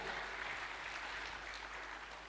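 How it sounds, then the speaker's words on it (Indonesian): A crowd at a public talk show during a national working meeting claps steadily for Pak JK, a dense, even wash of applause lasting a couple of seconds and fading slightly at the end. "tepuk tangan boleh untuk Pak JK."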